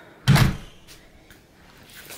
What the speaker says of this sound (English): I'm gonna go shut the door.